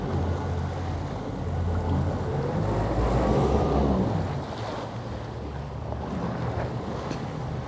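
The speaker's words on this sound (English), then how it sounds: "I'll reverse full speed almost into these waves" An East Cape 25 Open boat backs hard into waves at full throttle, with a loud continuous engine drone under rushing water, splashing surf and wind buffeting that builds, then eases slightly.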